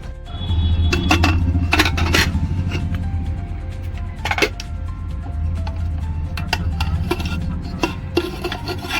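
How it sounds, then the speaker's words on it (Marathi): Boiled sweet potatoes rubbed against a metal kitchen grater, giving steady rasping strokes with occasional clinks, close and fairly loud with no talking. "आपण ही रताळी किसूया."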